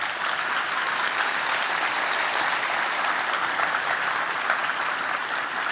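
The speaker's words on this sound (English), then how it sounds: "Please give them applause." Sustained audience applause fills a medical graduation and pledge ceremony hall, dense and steady for several seconds without letting up, with no speech over it.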